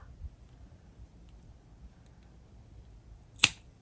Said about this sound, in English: you can take that little tail that you have right there and cut that off.